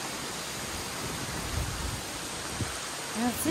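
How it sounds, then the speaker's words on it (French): Heavy rain falls on a caravan during a deluge, a steady broadband hiss with a few faint thuds and knocks and no clear speech. "Purée, il pleut et pas qu'un peu"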